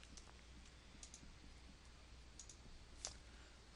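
Computer mouse clicking, a handful of faint, sharp isolated clicks spaced irregularly over quiet background hiss, close by with no talking.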